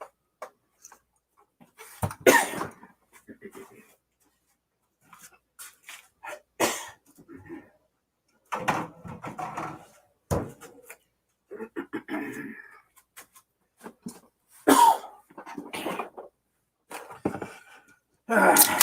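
Scattered bursts of coughing and throat clearing after a drink of Diet Coke went down the wrong pipe, several sharp fits separated by quiet gaps, close to the microphone.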